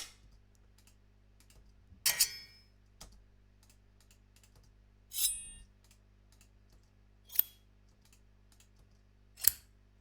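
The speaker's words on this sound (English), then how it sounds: "just lots of little scissory kind of cutty sounds to make this big cinematic scissor cut" Small knives and scissors are layered into a cinematic scissor-cut effect: four sharp metallic snips and slices, spaced a couple of seconds apart over near silence, with faint ticking clicks in between.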